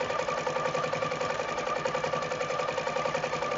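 A sewing machine stitching rapidly and steadily during free-motion quilting of pebbles in manual mode, with a continuous mechanical hum and fast, even needle chatter, close up and alone.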